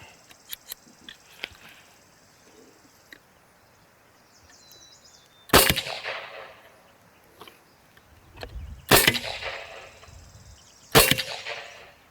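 Three sharp, loud shots from an Evanix Max ML 9mm big-bore airgun charged to 2,900 PSI, each a sudden crack with a ringing decay, spaced a few seconds apart with quiet handling noise between.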